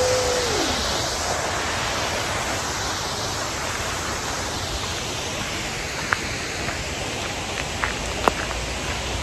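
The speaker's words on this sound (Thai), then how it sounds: "ชมความงามของน้ำตก Stiendal Fossen กันไปค่ะ" Steinsdalfossen waterfall in Norheimsund, Norway, a 20-metre fall of fast, clear water, gives a loud, unbroken roar and hiss of rushing water, with a short rising tone at the start and a few faint clicks and taps near the end.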